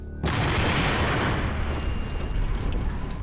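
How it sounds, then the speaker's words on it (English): Ninja explosives detonating in a large, sudden blast that erupts after a brief silence and settles into a sustained, loud rumbling roar. No voices are heard. "It was a great explosion."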